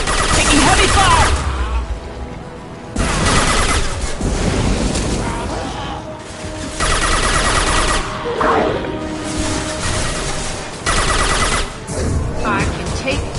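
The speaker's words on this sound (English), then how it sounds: "Taking heavy fire!" Heavy gunfire in the video game Mass Effect 2: loud bursts of automatic fire and blasts come in repeated volleys about every few seconds, with short lulls between them, under a busy combat mix with faint voices.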